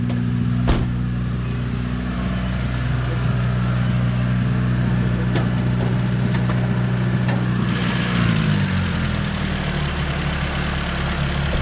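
A Toyota Corolla LE, Honda Civic EF or Mercedes W123 engine idles steadily with a misfire, carburetor-fed, its low droning hum continuous and close before the pitch dips and settles lower near the end.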